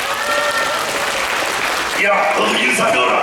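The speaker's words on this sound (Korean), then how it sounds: "박수 한번 쳐줘요" An audience claps at a Korean ventriloquism performance held by an arts association in Iksan, dense, continuous applause throughout that swells louder near the end.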